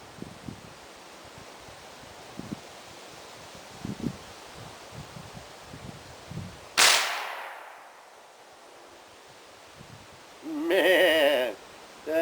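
A .58 caliber Beowulf big bore air rifle charged to 3,800 psi fires one loud, sharp shot after a stretch of faint outdoor rustling, then air hisses briefly as it settles.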